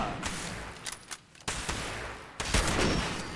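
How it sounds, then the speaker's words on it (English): Hunting rifle fire in the video game Fallout 76, a few sharp, loud shots spaced out over a steady in-game background, each with a short echoing tail. "Let's switch back to our hunting rifle. We can take him out from a distance."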